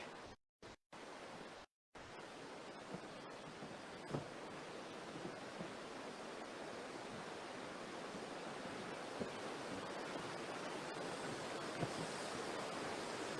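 Steady broadband roar of a waterfall coming off the side of the Aareschlucht gorge, loud and continuous, with a few brief dropouts at the start; no voices.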